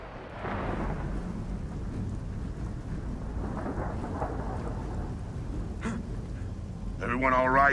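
A heavy thunderstorm rages in Gears of War 4, with deep continuous rumbling thunder and pouring rain that swell loud across the whole stretch, while voices break in briefly near the end.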